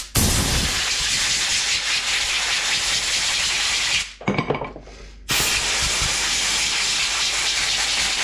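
Compressed air blasting loudly over brake caliper parts and pads from a 1939 Chevrolet, a steady hiss for about four seconds, a brief pause with small puffs, then the blast resumes.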